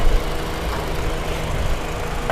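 A Honda City 1.5 S i-VTEC car engine idles with a steady low hum and faint mechanical ticking, constant and close, with no voices.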